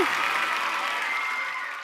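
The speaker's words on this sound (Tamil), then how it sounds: "மீண்டும் ஒரு பலத்தை கைத்தட்டல் கொடுத்துடலாம்" Audience applause at a singing competition show, a dense wash of clapping that holds steady and fades slightly toward the end, with no voices over it.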